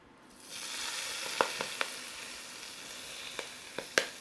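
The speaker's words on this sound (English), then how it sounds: "they also are gonna sizzle as soon as they hit the oil" Chili seeds hit hot oil and a soft sizzle swells up quickly, then hisses steadily at moderate volume, dotted with sharp little pops and crackles near the end.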